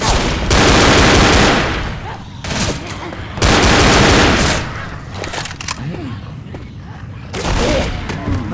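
Rapid bursts of gunfire from the Left 4 Dead co-op zombie shooter video game, loud and repeated in several long volleys with short gaps between them, and brief speech-like sounds mixed in.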